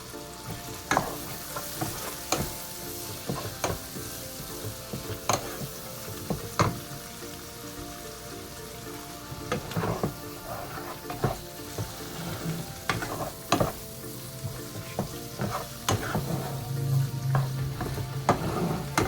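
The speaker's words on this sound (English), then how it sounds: "You're gonna just saute this for about 2 minutes, guys. Guys, this is when you add your roast beef." Roast beef and mushrooms sauté in a hot pan with a continuous sizzle, broken by repeated sharp scrapes and clatters of a utensil stirring, close and fairly loud throughout.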